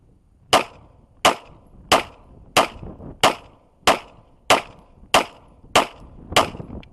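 Ten sharp gunshots from a Polymer80 G34 pistol, spaced evenly about two-thirds of a second apart, each a loud crack with a short ringing tail, outdoors with no talking.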